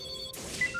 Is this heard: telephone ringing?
yes